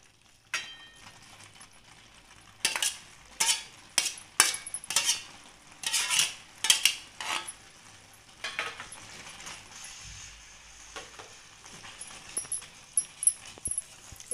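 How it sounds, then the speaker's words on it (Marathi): A spoon stirs and tosses Chinese noodles with sauces and vegetables in a pan, making a series of sharp metallic clinks and scrapes in uneven bursts, fairly close, with no talking. "अजून एखादा चमचा घ्यायचा आणि छान पद्धतीने हे मिक्स करून घ्यायचे आहे"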